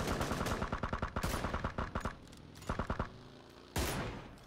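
Rapid bursts of gunfire in PUBG, with sniper rifle shots among them: loud clusters of cracks fired in quick succession, a pause, another volley, then a single heavy blast near the end.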